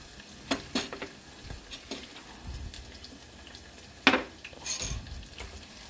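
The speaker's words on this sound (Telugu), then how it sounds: "ఉల్లిగడ్డ, పచ్చిమిర్చి ఫ్రై అవుతున్నాయి" Chopped onions and green chillies fry in a pan with a low, uneven sizzle, while a spoon scrapes and clinks against the metal in scattered sharp knocks, one louder near the end. Nobody speaks.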